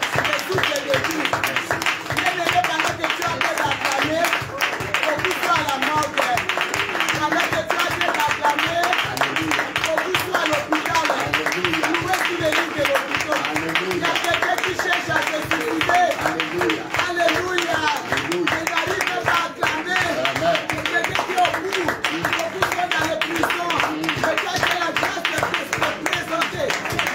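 A church congregation at a prayer retreat vigil claps steadily in rhythm while voices shout and praise over it, dense and continuous throughout.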